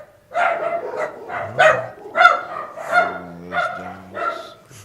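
Several dogs barking at visitors arriving, a run of six or seven loud, close barks and yips at a steady pace with whimpering mixed in and no talk over them.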